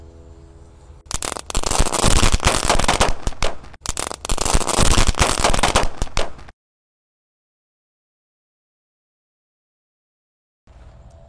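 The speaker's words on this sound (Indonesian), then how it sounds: "Yang pertama kita nyalakan mercon telur dino Thor. Ini beledosnya banter-banter guys." A "telur dino Thor" mercon firecracker goes off outdoors in a loud, rapid string of crackling bangs lasting several seconds with a brief gap, then the sound cuts to silence.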